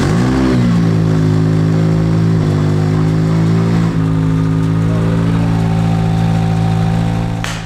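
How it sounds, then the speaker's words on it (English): A Honda K20 engine with a MagnaFlow exhaust runs loud and close, its steady hum rising and falling through rev changes before it settles near the end, with no talking. "Let's get this thing fired up and see how it sounds."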